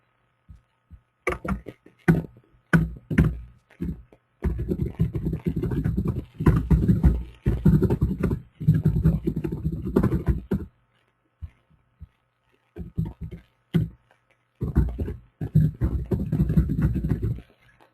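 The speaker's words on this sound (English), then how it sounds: "So I'll type it on my screen now." Typing on a computer keyboard, heard as close, dense bursts of rapid clicking separated by short pauses, with no voices.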